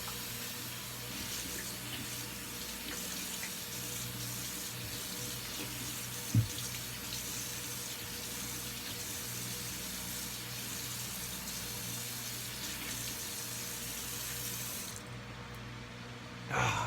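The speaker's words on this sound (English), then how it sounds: "Cold water, rinse." A tap runs steadily for most of the stretch for a cold rinse after shaving, a constant watery hiss that stops abruptly near the end.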